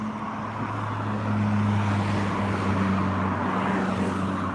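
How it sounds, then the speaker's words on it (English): A car motors along a road, its engine a steady droning hum that grows slightly louder as it approaches, heard close up from the roadside with a constant traffic rumble beneath. "this car is motoring down here"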